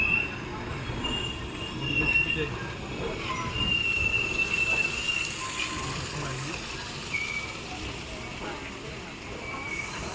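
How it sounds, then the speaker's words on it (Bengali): A train rolls slowly through a station at dawn, with a steady low rumble and thin, drawn-out wheel squeals above it, and no voices. "তো আস্তে আস্তে ট্রেন চলছে ভোরের টাইমে"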